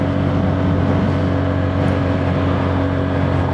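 A Neco NC-N01 125 motorcycle cruising at 40 mph in sixth gear around 6,000 RPM: a loud, steady engine drone with constant tonal hum and wind noise, unbroken throughout.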